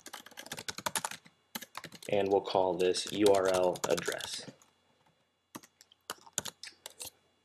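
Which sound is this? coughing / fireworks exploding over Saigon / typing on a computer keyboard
typing on a computer keyboard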